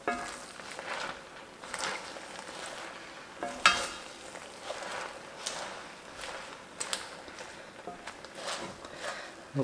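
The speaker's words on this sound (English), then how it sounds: "it's just a matter of just rotating it a bit so that the leaves on the top get some heat and mix in with that bechamel" Fresh spinach is stirred into an almond milk béchamel in a pot, giving soft, quiet wet swishes and light scrapes that repeat unevenly for several seconds, with no talking.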